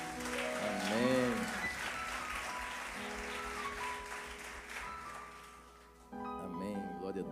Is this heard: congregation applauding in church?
yes